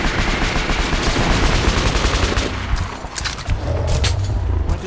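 Rapid gunfire in the video game Metro: Last Light, dense bursts of automatic shots rattling continuously and loudly with sharp metallic clicks and a low rumble beneath, no pauses.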